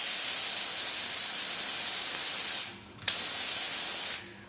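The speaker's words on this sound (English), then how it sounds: "the new steam wands and valve assemblies." A steam wand on a refurbished commercial espresso machine with new valve assemblies hisses loudly under strong pressure, cuts off briefly, bursts back on and then fades.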